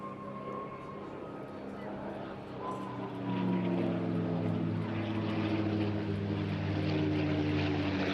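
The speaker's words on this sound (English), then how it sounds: "Lovely topside pass there." A propeller warbird roars through a topside display pass at a seaside airshow, its engine drone steady and then swelling louder and nearer as it sweeps past, with a rising whine over the throbbing tone.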